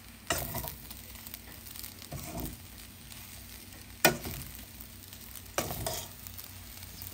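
Veg fried rice with spring onions is stir-fried in a pan, giving a soft continuous sizzle broken by a few scraping stirs of the spatula against the metal.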